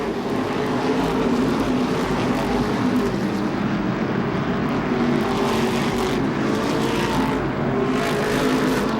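Modified race cars at Seekonk Speedway during the Modified Madness 100, a loud continuous engine roar of cars racing side by side with steady droning pitch throughout.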